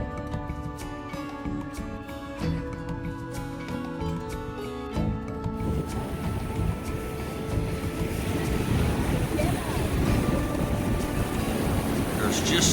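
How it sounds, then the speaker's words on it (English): Ocean waves roll in at Santa Monica Pier, a broad steady wash of surf with wind buffeting the microphone, building to a fuller, louder roar in the second half. "There's just something soothing about listening to the waves and watching them roll in."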